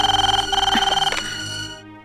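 A telephone rings loudly and close by with a rapid trilling bell, then the ringing stops abruptly.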